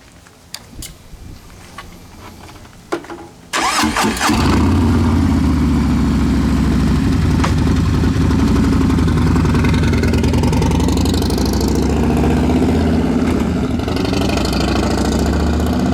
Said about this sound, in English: That was a cold start, guys.